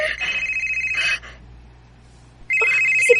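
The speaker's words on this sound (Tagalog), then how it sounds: "Ang akong cellphone." A cellphone rings twice with a loud electronic trilling tone, broken by a short pause, in a Cebuano radio drama scene; the ring is close and clear.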